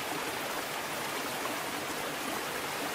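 Steady, even rush of a waterfall somewhere in a forest, a constant broadband roar of falling water that stays unchanged for the whole stretch, with no voices.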